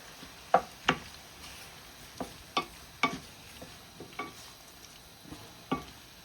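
Squid stirred in a pan with soy sauce and fish sauce, giving irregular, close clacks and scrapes of a utensil against the pan over a faint background sizzle.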